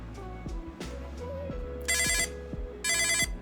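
A short electronic ringing tone from a cat GPS tracker sounds in two bright bursts, separated by a brief pause, over a faint background hum and a few clicks.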